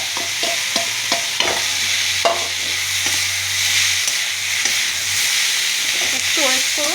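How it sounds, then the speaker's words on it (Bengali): Dried fish hits a hot pan of tomato with a loud, steady sizzle and hiss, broken by scraping stirs and small clinks close by. "এই দেখুন আমি এবার মাছও দিয়ে দিচ্ছি"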